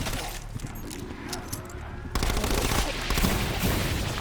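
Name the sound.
rifle gunfire in the video game Black Ops 4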